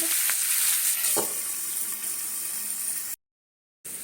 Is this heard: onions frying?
yes